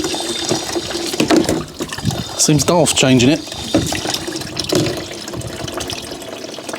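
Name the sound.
washer fluid draining from a Fiat 500 pump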